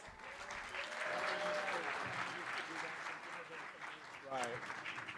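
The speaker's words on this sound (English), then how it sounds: "Audience, let's give everyone another round of applause." An audience applauds honorees at an evening celebration, a sustained mass of clapping heard alongside voices, with a brief louder voice rising near the end.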